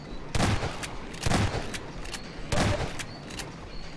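Gunfire from Half-Life 2 in a game session, with several sharp shots in a loose irregular sequence, each a loud burst with a short tail over faint background noise.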